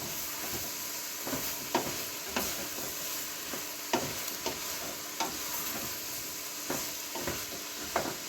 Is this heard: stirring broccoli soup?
yes